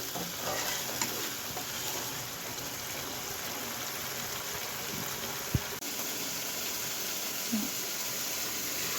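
Ginger-garlic masala paste sautéing in oil gives a steady, fairly faint sizzle, with a few soft stirring scrapes and a brief louder knock near the middle, and no talking.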